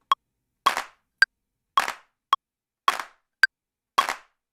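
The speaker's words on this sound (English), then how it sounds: "What we're doing is leveling out all these claps" Recorded hand clap samples in a music mix, sharp isolated claps alternating with slightly longer, roomier claps in an even repeating pattern, loud and dry against silence.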